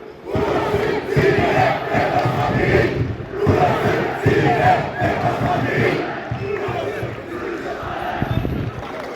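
Football fans chanting in packed stadium stands at a match in Kırıkkale, a loud, rhythmic mass of voices rising and falling in waves across the crowd.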